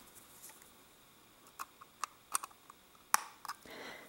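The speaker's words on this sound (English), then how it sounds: "So I'm going to go back and snip again." Wire cutters snip the excess leads of coil wire during a dual coil build, giving a handful of sharp, close clicks scattered over a few seconds, with one louder snap near the end and a quiet background otherwise.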